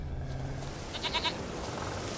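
A goat in The Witcher 3 video game gives a short bleat, a quick wavering cry lasting about half a second midway through, set against a steady background of game ambience.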